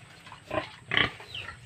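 Pigs in a pen grunt and squeal after Typhoon Odette, two or three close, rough bursts over a low background hum.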